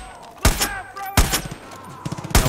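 A few loud, sharp gunshots ring out in the Far Cry 5 video game, spaced roughly a second apart, each with a short echoing tail and some faint game sounds between them.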